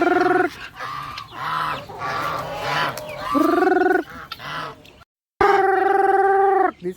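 A person makes a loud, sustained, sing-song vocal call to summon chickens on a farm, a voice imitating fowl in long held tones broken by a brief pause, with clucking birds close by.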